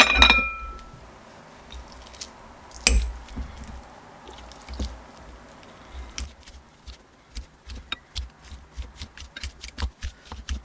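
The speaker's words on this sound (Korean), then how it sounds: "미리 삶아둔 계란을 먼저 으깨줄게요" Pre-boiled eggs being mashed for egg mayo toast, with soft squishing presses and light utensil clinks against a bowl, quiet and close, growing into a steady run of short taps near the end.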